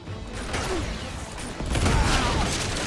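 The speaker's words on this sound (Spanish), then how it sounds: "Madre, más explosiones." Dense gunfire and explosive blasts from the game Uncharted 2 roar as a continuous broadband din that swells louder partway through, with a few whooshing sweeps.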